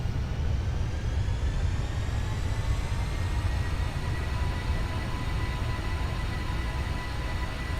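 Jet thrust reversers roar during a landing in the Aerofly FS 4 flight simulator, a loud, steady broadband rush that holds without break, with no talking.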